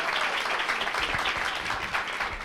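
An evening book-talk audience applauds for an author, a dense, steady round of clapping that fills the room without any speech over it.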